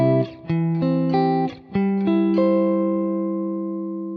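A guitar plucks triad inversions as a brisk run of about eight separate clean notes, each one distinct, and the final note is left ringing and slowly fading, heard alone and up close.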